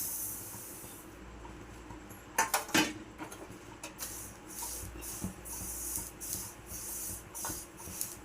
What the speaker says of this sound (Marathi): लगेच भाजतात तीळ, सतत हलवत राहायचं आणि ह्याला चटचट आवाज येतोय बघा असा